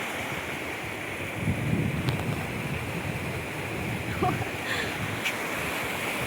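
Water pours steadily over a large weir on the Lam Sebai river, a continuous broad rush with gusty wind across the microphone and no clear voices.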